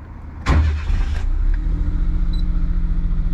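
A Suzuki Alto Works kei car with a 660 cc engine cranks briefly and catches, then settles into a steady, close, loud idle rumble with no talking.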